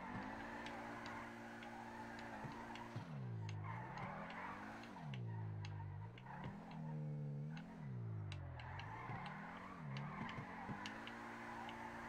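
Car drifting in GTA 5 on a FiveM drift server: a continuous engine drone that rises and falls in pitch with each slide and throttle change, with light ticking and faint tire scrubbing throughout.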